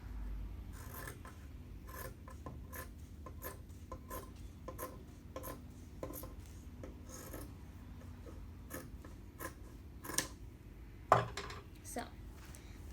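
Scissors cutting fabric for a pencil case, with a string of crisp, close snips at an uneven pace over a soft background hum, a couple of louder cuts near the end.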